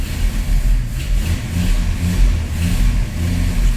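A 1985 Ford F350 engine with a non-working choke is held running cold by feathering the throttle, its rumbling revs rising and falling in steady uneven surges, loud and close with no talk.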